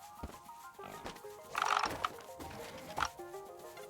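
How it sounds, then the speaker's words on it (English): Pig oinking in the video game Novalands, a few short grunts around the middle of the clip over soft looping game music. "What you oinking at?"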